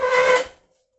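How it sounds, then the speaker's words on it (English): A chair scrapes across a tile floor in one loud, rasping drag of about half a second, then stops abruptly into silence. "That was her chair scraping on the tile floor."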